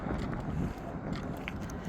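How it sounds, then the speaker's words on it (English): Wind buffets a microphone outdoors near Quartzsite, Arizona, a dense low rumble that roars steadily and close for the whole moment with no talking. "Windy today, sorry"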